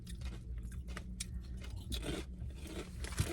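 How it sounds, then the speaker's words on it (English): Someone bites into potato chips close up, making a series of sharp, crackly crunches as they chew, with no talking. "And these chips, I love the crunch."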